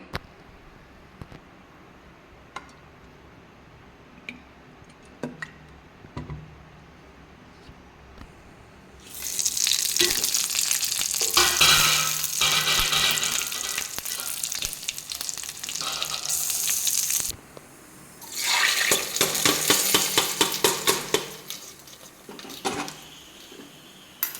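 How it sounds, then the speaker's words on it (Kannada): Dry red chilli pieces and curry leaves splutter in hot oil for a tempering, a loud burst of sizzling that starts partway through, breaks off briefly, then flares again before fading, with no talking. "ಒಂದು ಸ್ವಲ್ಪ ಕರಿಬೇವಿನ ಎಲೆ, ಇಷ್ಟನ್ನು ಹಾಕಿ ಒಗ್ಗರಣೆ ಮಾಡಿ ಸಾರಿಗೆ ಬೆರೆಸ್ಕೊತಾ ಇದ್ದೇನೆ"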